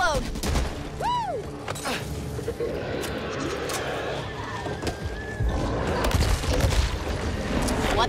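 Gunfire in the zombie shooter game Back 4 Blood: bursts of shots and booms layered with chaotic game effects, voices talking over the action.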